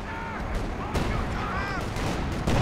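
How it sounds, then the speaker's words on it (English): Katyusha rocket artillery barrage in Company of Heroes 2, a dense roar of launches and distant booms layered with battle noise, with someone talking over it throughout. "Katyusha once again targeting the forward HQ"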